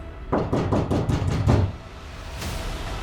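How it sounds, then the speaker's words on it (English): A knock on a wooden door of a frontier shack on a winter evening in 1854, a series of about five heavy, evenly spaced raps close by, followed by a quiet stretch of room tone. "a knock came at the door"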